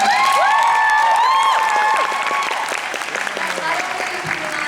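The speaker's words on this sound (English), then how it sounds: "We got a round of applause for Odette" Loud applause from a San Diego Comic-Con panel crowd with a few cheers and whistles, continuing steadily for several seconds before tapering slightly.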